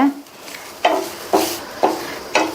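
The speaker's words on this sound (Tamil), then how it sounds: "இந்த தேங்காய் துருவலை இந்த பட்டர்லயே 1 நிமிஷம் போல நல்லா வதக்கி விட்டுக்கங்க." Grated coconut sautéing in butter in a pan, with a steady faint sizzle and about four rhythmic scraping stirs of a spoon against the pan, close by and with no talking.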